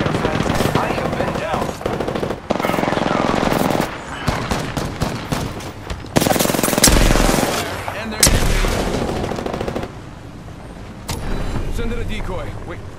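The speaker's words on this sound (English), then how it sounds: "The enemies are shooting at me." Gunfire in Apex Legends, with rapid bursts of automatic weapon shots stacked close together, dense and loud, broken by short pauses and heavier single cracks, all under continuous game sounds and some talking.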